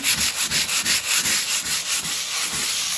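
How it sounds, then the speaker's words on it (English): Sandpaper rubbed by hand over a living room wall in a light scraping pass, about a dozen quick regular back-and-forth rasping strokes, close and fairly loud, with no voices. "So I'm giving it a light scraping."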